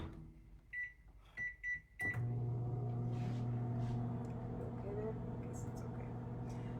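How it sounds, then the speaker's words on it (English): A microwave oven beeps several times as buttons are pressed, then starts with a thunk and settles into a steady close hum while steaming vegetables, with faint kitchen clatter over it. "that's just going to go in the microwave for 6 minutes"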